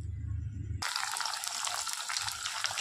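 Cauliflower florets dropped into plenty of hot oil with dried red chillies, giving a sudden loud, steady sizzle that fills the kitchen after a brief quiet lead-in.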